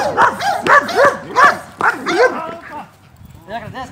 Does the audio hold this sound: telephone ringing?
no